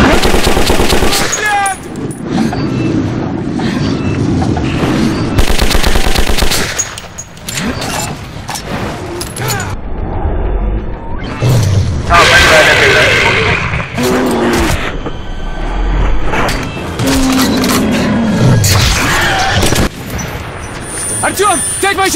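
Sustained automatic gunfire rattles almost nonstop in the video game Metro 2033, dense and loud, with shouting voices and creature roars mixed in.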